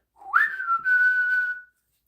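A person whistles an imitation of the closing flourish of the Disney castle intro: a short upward glide that settles into one steady, clear held note for about a second and a half, close and alone.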